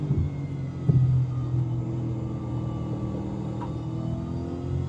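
V8 Supercar engine droning steadily at cruising revs on an out lap around Spa in the iRacing simulator, a continuous low rumble with a brief rise in revs near the start and no talk.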